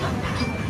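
A passenger train running along the tracks, a dense steady rumble with rattling close by throughout the short moment.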